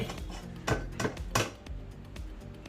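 Chopped vegetables are tipped into a metal rice cooker pot, giving several clattering knocks of spoon and pot against a steady background hum, close and moderately loud.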